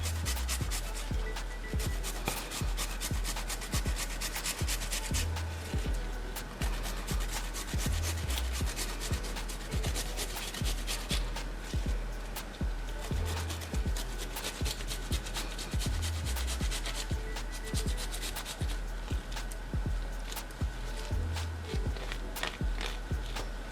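Fresh ginger root is grated for a jamu drink in a steady run of rhythmic rasping strokes. The strokes are close and even and continue for over twenty seconds, with no talking.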